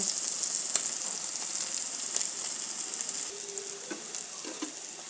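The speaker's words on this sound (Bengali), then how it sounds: "এক পাশ ভালোভাবে ভাজা হয়ে গেলে তারপর উল্টিয়ে দেব" Mola fish heads sizzling in hot oil, a steady bright frying hiss with scattered pops, softening slightly partway through.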